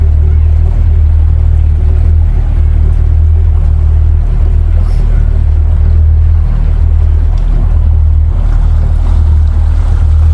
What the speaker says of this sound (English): What size motor you got on this thing? What's that, Mercury?